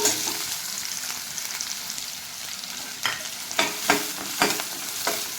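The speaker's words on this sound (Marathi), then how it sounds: "आणि कांदा टाकून घेते." Onion frying in a pan on the way to golden brown: a continuous moderate sizzle, then a run of sharp, regular stirring scrapes over the last couple of seconds.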